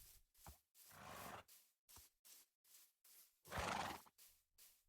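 A Minecraft horse neighs and whinnies repeatedly in short bursts separated by brief gaps, with a couple of longer, louder calls, moderately close and heard alone.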